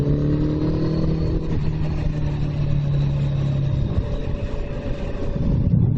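A Suzuki GSX1400 motorcycle engine on the road, a loud continuous drone with a steady hum that drops away midway, as after a gear change, under rushing wind, with no talk.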